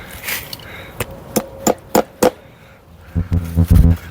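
Hammer blows drive a fence insulator into a wooden post while fence prep goes on for rotational grazing. Five or six sharp, close strikes land about half a second apart, followed by a rougher cluster of duller knocks.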